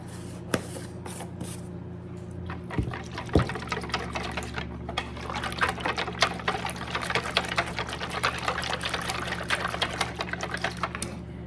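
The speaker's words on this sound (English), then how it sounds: "Then I'm going to whisk that together." Sauce mixture with garlic powder being whisked by hand in a container, a steady, busy scraping and clicking of the whisk that runs throughout, close and moderately loud, with no talking.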